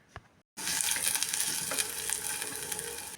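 Onions and green chili frying and being stirred in a pan for a Kerala beetroot thoran, a steady loud sizzle that starts abruptly after a brief silence, with scraping stir sounds throughout.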